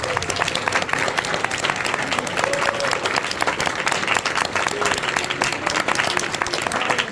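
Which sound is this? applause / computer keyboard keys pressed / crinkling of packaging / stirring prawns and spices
applause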